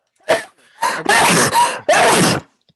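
A sharp gasping intake followed by a loud, explosive sneeze close to the microphone during an online meeting, then a second burst and a brief quiet tail.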